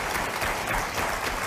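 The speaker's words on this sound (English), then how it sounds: "Ladies and gentlemen, applause that." Studio audience applause on a daytime talk show, a brief, steady wash of many people clapping at moderate volume.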